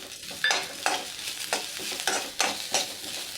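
Spices tipped into onions frying in a pan, with a steady sizzle and about seven sharp, rhythmic stirring scrapes close up, no voices.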